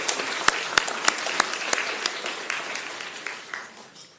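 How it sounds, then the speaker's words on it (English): Applause at an Orange County Board of County Commissioners meeting, with a few sharp, close individual claps over a broader round of clapping that gradually tapers off. "Let's give another round of applause"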